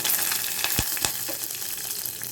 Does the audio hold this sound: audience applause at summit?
no